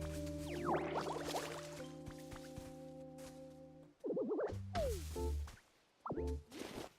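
Water sprays onto a tree in the video game Pokémon Pokopia, soft liquid splashes and drips set against game music and sound effects, with a few swishy bursts and brief gaps.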